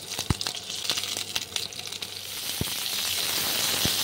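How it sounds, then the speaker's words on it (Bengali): Pointed gourd (potol) frying in a little hot oil, a soft continuous sizzle with scattered sharp pops and spatters that grows slightly denser toward the end. "তেলটা গরম হয়ে গেছে, পটলগুলো দিয়ে দিচ্ছি। পটলগুলো ভাজতে হবে।"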